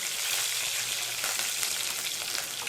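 Mustard seeds and urad dal spluttering in hot oil while tempering for Tamil tomato rice, a steady dense crackle and sizzle filling the whole stretch, close and fairly loud with no talking.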